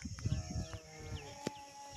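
Goats bleating faintly on a farm where buffalo graze nearby, with a few short distant calls scattered over a quiet, low rumbling outdoor background.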